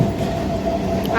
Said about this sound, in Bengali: আমরা দেখো ট্রেনে চলে এসেছি। এটা হলো আমাদের ফার্স্ট ট্রেন